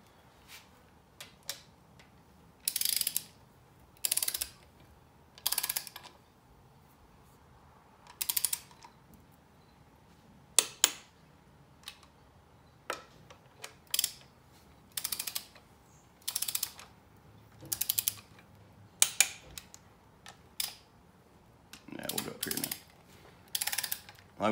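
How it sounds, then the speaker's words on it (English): Bursts of ratchet clicking while timing cover bolts on a 5.3 LS engine are torqued to spec in a crisscross pattern, a dozen or so short clicking runs separated by brief pauses, close and clear with no talking. "Like we'll just torque them all in a crisscross pattern."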